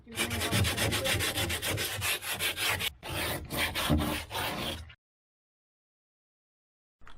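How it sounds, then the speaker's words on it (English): Steady, rhythmic rasping strokes of sanding a fiberglass boat hull, close and loud, with a brief pause before stopping abruptly into silence. "I'm just gonna start sanding it down, even on parts of it that aren't damaged"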